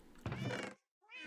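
A cat meows in a video game, a short sharp call followed by a brief pause and the start of a second meow.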